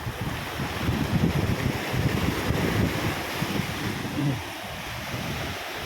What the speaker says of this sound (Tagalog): Yung alon. Yan, kahit sa tunog lang ng alon, ang sarap ng pakinggan.